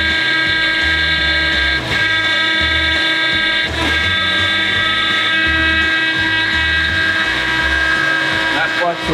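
Flex angle grinder cutting into the bodywork of a scrapyard Chevy, a steady loud high whine that runs unbroken for several seconds with a few sharp clicks and rumbling shop noise underneath.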